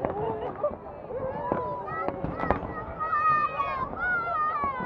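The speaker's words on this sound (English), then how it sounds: "Sydney Harbour's getting lit up right now. Fireworks from the Navy Fleet Review." Fireworks from the Navy Fleet Review burst over Sydney Harbour as scattered distant pops and cracks, half buried under people talking nearby.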